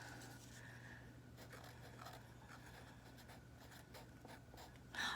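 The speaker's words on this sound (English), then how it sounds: "on the back I can either write my name" Pen or marker scratching across the back of a small painted rock, faint close strokes over a steady low hum, ending in a brief sharper scrape.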